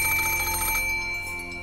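A telephone rings, a brief trilling bell burst that cuts off partway through, leaving a sustained musical hum beneath with no speech.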